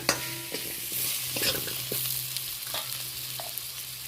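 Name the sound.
potatoes frying with salt and turmeric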